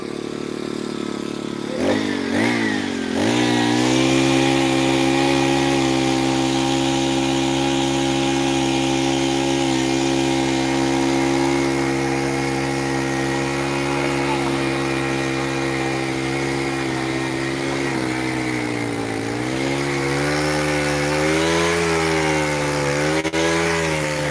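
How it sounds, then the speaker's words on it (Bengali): An engine-driven hole-digging machine bores holes for bamboo posts at an Ijtema prayer ground in Pandua. Its loud, steady motor drone runs almost continuously, with the pitch wavering and shifting toward the end, and there is no talking. "সেই মেশিন গর্ত করা মেশিন নিয়ে চলে এসছে"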